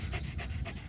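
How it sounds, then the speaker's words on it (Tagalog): A dog pants hard and fast after a 1.1-kilometre walk, with quick rhythmic breaths in close, steady bursts and no voices. "Hingal na hingal yan."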